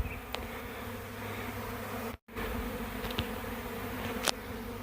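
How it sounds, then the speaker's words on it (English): A honey bee swarm forming outdoors, a steady close buzzing drone of many bees with occasional individual bees passing louder, no talk. "you're watching a swarm form as I'm on this job"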